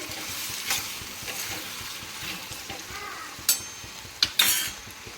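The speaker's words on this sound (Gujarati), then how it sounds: "જો સબ્જી આપણી બને છે ને રોટલી પણ ચાલુ છે" Vegetable sabzi cooks on a home stove, a continuous sizzle and frying hiss with stirring scrapes and a few sharp clinks of a utensil against the pan near the end.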